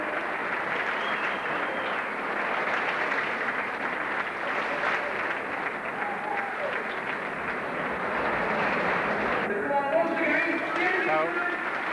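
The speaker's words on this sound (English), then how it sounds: "good round of applause for Mike Walsh as he shows the trophy around." A football crowd at a Bury FC third-division match applauds steadily as manager Mick Walsh parades the trophy, a dense, continuous wash of clapping heard from a distance, with announcer talk on top.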